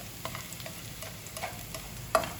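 Garlic frying and browning in oil in a pan for Sambales-style dinuguan, a steady close sizzle with occasional stirring scrapes and a sharper clink near the end.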